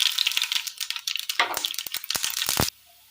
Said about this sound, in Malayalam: ചൂടായ എണ്ണയിലേക്ക് കടുക് ഇട്ട് കൊടുക്കാം.